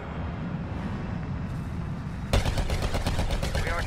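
Rapid blaster gunfire bursts out abruptly partway through a Star Wars Battlefront battle, a dense run of repeated shots that are loud and close, following a stretch of low ambient rumble.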